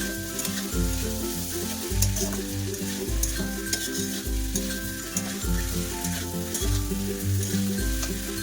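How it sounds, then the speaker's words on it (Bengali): Pre-boiled potatoes sautéing in a pan for kasha, with a steady loud sizzle throughout and regular scraping stirs at a rhythm of about one per second, close by and without talking. "আলুগুলোকে একটু কষা করে তারপরে দিয়ে দেবো জল"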